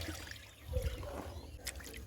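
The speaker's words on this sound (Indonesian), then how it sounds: "dibilas sampai airnya bersih katanya ibu" Raw coffee beans being rinsed in water in a village kitchen, with soft sloshing and trickling as the beans are swirled and water drains, faint and close throughout.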